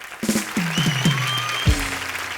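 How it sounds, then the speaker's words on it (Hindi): Studio audience applause on a comedy show, a short burst of clapping with loud voices and tonal sounds layered over it. "जोरदार तालियां हो जाएं।"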